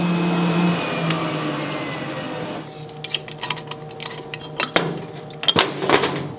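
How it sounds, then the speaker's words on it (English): A spray dryer turning liquid into powder runs with a steady machine hum, low drone and hiss, then it cuts to quieter background with scattered clicks, rattles and knocks. "So what's this yeah. machine called? A spray dryer."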